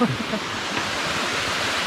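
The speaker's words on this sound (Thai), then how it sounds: "ดูน้ำตกโพนพบ" Phon Phop waterfall at Phu Kradueng in Thailand, a steady broadband rush of falling water heard from nearby, constant and even throughout.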